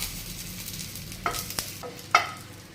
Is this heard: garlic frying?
yes